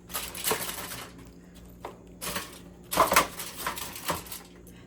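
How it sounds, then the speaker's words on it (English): Crinkly aluminum foil being pressed and rustled into a pan for a spicy buttery cabbage boil, with several bursts of sharp crackling close up and no talking. "We're going to grab our pan and get that aluminum foil in there."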